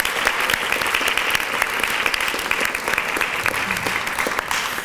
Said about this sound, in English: So you could please give your parents and guardians a round of applause.